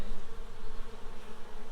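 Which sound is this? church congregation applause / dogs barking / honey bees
honey bees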